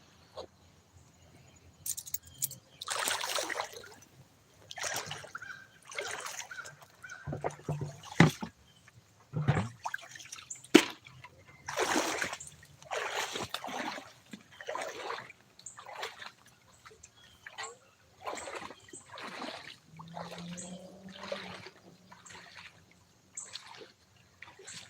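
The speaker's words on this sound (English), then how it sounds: "There you can see the whole creek." Creek water flowing and splashing in uneven bursts, separated by quiet gaps, close and fairly soft throughout.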